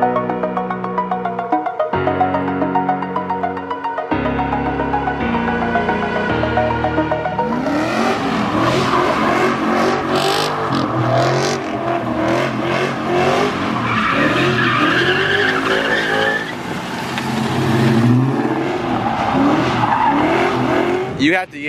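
A Ford Mustang revs hard and slides on a straight road, tires squealing loudly in long sweeping bursts over a roaring engine, with voices talking over the noise.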